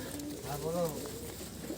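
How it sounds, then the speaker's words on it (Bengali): A single soft, rolling coo from a pigeon, one of a group of good-quality flying pigeons, heard close and fairly quiet over faint background noise. "দেখে নিন খুবই সুন্দর কোয়ালিটি পায়রা"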